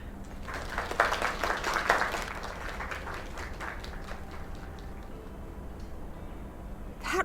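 An audience at a small live performance applauds, a burst of dense clapping that is loudest early and then thins into scattered claps over several seconds.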